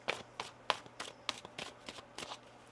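Tarot cards are shuffled in a series of quick, crisp riffles and taps, about ten short bursts, close and fairly quiet with no talking.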